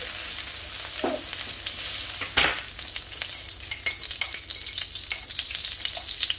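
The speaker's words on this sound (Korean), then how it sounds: "올리브 오일을 조금만 부어주시고, 버터 50g을 넣어주세요" About 50 g of butter melts into a little olive oil in a pan, giving a continuous crackling sizzle with brisk spatter pops and one louder scrape partway through, and no talk.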